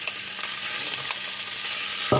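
Garlic and shallots sautéing in oil, a dense, steady close sizzle that holds evenly throughout with a small clink at the very end and no speech.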